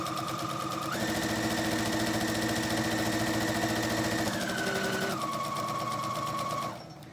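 A sewing machine runs steadily, stitching a quarter-inch seam allowance with a continuous loud whirring hum that shifts speed partway through and then winds down at the end, with no talk over it.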